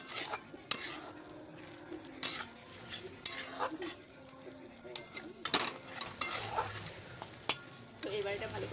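A spoon stirs and scrapes spice masala frying in a pan, giving intermittent metallic clinks and scrapes over a faint steady sizzle, close by and moderately quiet.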